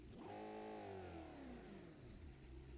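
A car's flat-plane engine in BeamNG revs up sharply and holds a high, smooth wail, then drops back down, with no voices.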